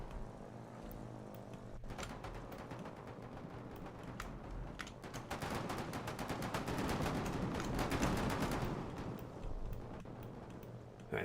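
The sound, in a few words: aircraft machine gun fire in a video game dogfight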